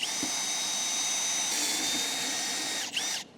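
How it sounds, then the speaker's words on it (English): A power drill whines steadily into the metal of a Chevy C10 squarebody truck, loud and close, its pitch shifting slightly before it winds down at the end. "Definitely look behind where you're drilling to see where you're gonna hit."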